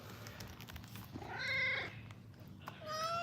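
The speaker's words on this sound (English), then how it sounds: "Show me all the meows. All the variety of your meows." A cat meows twice, a drawn-out yowl followed by a shorter call, close and fairly quiet.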